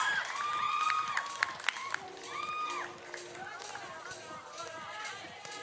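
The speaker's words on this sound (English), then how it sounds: "Jenny and Kyla's kababayans cheering them on here." Crowd cheering at a beach volleyball quarterfinal, with high shouts and whoops from spectators over a general hubbub and scattered clapping, while a commentator talks over it.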